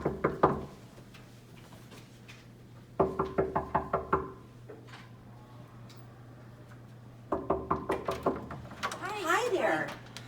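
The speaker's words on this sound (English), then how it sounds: "I'm gonna knock anyways." Knocking on the front door of a house during door-to-door fundraising: three separate bursts of several sharp raps each, close and fairly loud, spread over about ten seconds, with a steady low hum underneath and a brief voice-like sound near the end.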